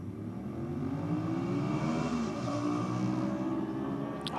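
A drag racing motorcycle makes a solo pass at a no-prep event, its engine note climbing in a sustained rising rev that stays fairly loud without a break, with no voices over it.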